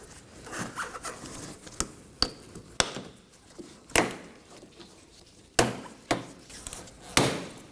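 Plastic wheel arch tabs pulled off a Dodge Durango bumper, a series of sharp, close snaps and pops spaced irregularly, with rustling between them.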